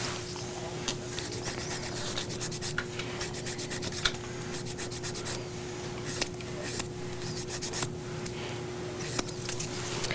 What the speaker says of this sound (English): Now we're filing down the nails.